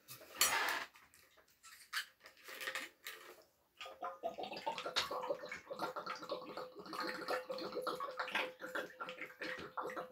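Water pours into a glass in a home setting, with clinks of glass and handling noises, fairly close and moderately loud, running for several seconds after a few earlier knocks.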